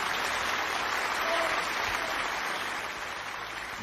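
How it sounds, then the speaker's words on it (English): A game show studio audience applauds in a steady, dense burst of clapping lasting several seconds, fairly loud, with no speech over it. "Give her a round of applause."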